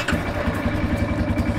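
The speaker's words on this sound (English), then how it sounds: "Hey, we should turn on the motorcycle." A motorcycle engine fired by its push start button settles into a steady, loud, close idle with a rhythmic low throb throughout.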